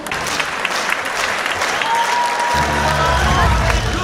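A concert audience at a 2017 stage show stands and applauds, dense sustained clapping filling the hall with a low rumble of movement beneath it and faint background voices.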